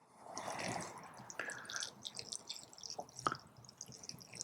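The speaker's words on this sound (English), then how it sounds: "we'll just give it a good water" Water poured from a converted milk container onto a tray of freshly potted seedlings, giving soft trickling and scattered drips on compost, fairly quiet and close, with no talking.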